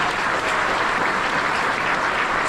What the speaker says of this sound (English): Please give yourselves an applause.